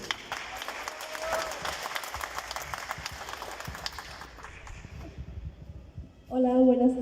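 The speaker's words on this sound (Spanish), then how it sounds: "Un aplauso, por favor" Applause from the audience at a university book presentation, steady clapping that gradually fades out before a voice begins speaking close to the microphone.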